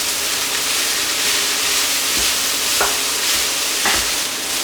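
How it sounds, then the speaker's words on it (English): Pork pieces stir-frying in a hot pan with onion, a loud, continuous sizzle and hiss with a few dull scraping knocks from stirring, no voices. "Give that a quick stir fry."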